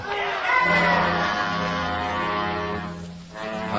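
An agitated crowd clamours loudly in a classic science-fiction radio drama about a spaceship landing, a dense wash of shouting voices over a low sustained drone, dipping briefly near the end before swelling again.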